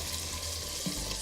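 Spiced kofta meatball curry simmering in a pan, a steady soft frying sizzle throughout with a brief stir or bump near the end, no talking.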